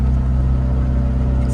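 A car's engine drones loudly and steadily while driven hard, a strong low rumble holding constant throughout with no speech.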